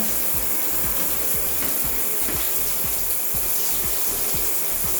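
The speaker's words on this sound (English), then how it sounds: "So I'm rinsing out the conditioner that I used for detangling." Water running steadily while conditioner is rinsed out of hair on wash day, a continuous close spray and splash with irregular soft thumps of water hitting hair and hands, no talking.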